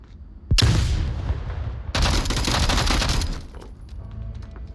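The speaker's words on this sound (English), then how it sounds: "And with that flashbang, I don't think I got Baron" A flashbang in the Onward VR shooter game goes off with a sudden loud crack, followed by a second harsh, noisy blast that rings on for over a second before fading into quieter game sounds.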